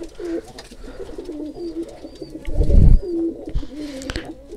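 Vaccinated breeding pigeons cooing close by during breeding season, soft repeated throaty coos layered over one another, with a brief low rumbling thump near the middle and faint background rustle.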